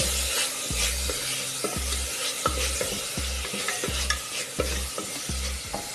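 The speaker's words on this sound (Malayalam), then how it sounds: "ശകലം ഇത്ര ഇട്ട് നന്നായിട്ട് ഇളക്കിയിട്ട്" Turmeric being stirred into a frying mixture in a pan, with a steady sizzle broken by regular spoon knocks against the pan, close and without talk.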